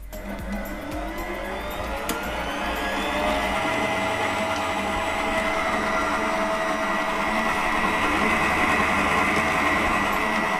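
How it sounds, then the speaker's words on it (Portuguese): An electric stand mixer beats chocolate mousse with a loud, steady whirring drone that swells slightly after a few seconds and holds at full speed, close up with no speech. "Agora vou colocar na batedeira, que é para ficar bem cremosa."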